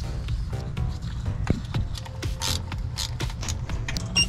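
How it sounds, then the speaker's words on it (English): A ratchet with a 13mm socket clicks in quick, irregular bursts while snugging starter bolts on a 1999-2007 Chevy Avalanche 1500, close and fairly quiet, with metallic tool knocks in between. "Thread in the two bolts and snug them the rest of the way with 13mm socket and ratchet."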